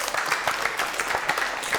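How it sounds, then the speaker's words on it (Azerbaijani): A studio audience at an Azerbaijani comedy show bursts into dense, steady applause, with many hands clapping at once for the whole stretch. "Alqışlayaq, babu."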